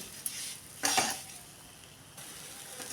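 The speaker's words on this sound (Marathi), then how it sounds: "मी रवा चांगला भाजून घेते" Rava (semolina) dry-roasting in a pan on a low flame for sweet prasad, with a soft sizzle and a few brief scraping stirs, close but quiet.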